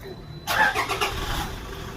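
A car engine cranks and catches during an air-conditioning service check, a short starter whir rising into a steady idle, moderately close over a quiet background.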